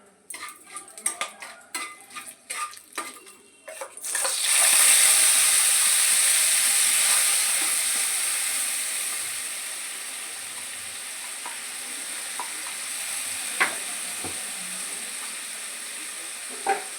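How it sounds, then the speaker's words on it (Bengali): Spices for vegetable biryani hit hot oil in a pan with a sudden loud sizzle that slowly fades to a steady hiss, preceded by clinks and scrapes of a utensil and broken by occasional stirring taps. "এখন আমি মশলাটা দেব, মশলাটা হয়ে যাক।"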